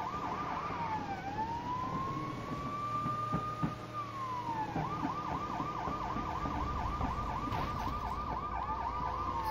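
A police car siren in the video game Lego City Undercover, first a long rising-and-falling wail, then a fast repeating yelp, loud and steady over continuous engine rumble with no talk.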